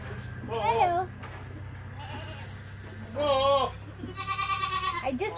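Baby Barbari goats bleating on a goat farm in Guwahati, Assam: several short, wavering bleats in separate bursts, close and fairly clear over a steady low background hum.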